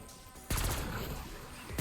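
Full-auto AEK 973 rifle fire in Black Ops 6 Zombies, a sudden loud sustained burst of rapid shots that halts briefly before another burst starts, following a quieter stretch of game sound.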